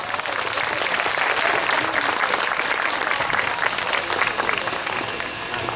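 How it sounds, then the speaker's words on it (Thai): An audience at a Thai traditional large shadow puppet performance from Wat Khanon claps in a sustained, even burst of applause, dense and steady throughout. "ขอเสียงปรบมือครับ"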